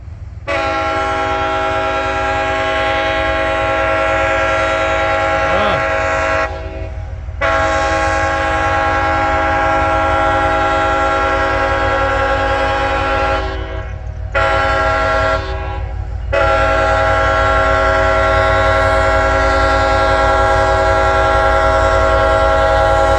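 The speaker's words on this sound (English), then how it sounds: "Waiting for him to sound his horns." Eastbound freight train, likely CSX, approaching a lowered crossing gate and sounding its horn in long loud blasts with short gaps over a steady rumble.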